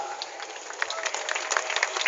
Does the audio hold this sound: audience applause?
yes